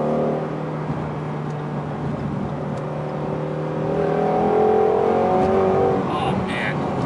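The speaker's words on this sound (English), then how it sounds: "The power that this car is making now, and like I said, the engine just loves this cold air." Ford Shelby GT350 engine accelerating in cold winter air on Michelin Pilot Sport 4S tires, a rising drone climbing in pitch and loudness from the cabin, steady road roar beneath.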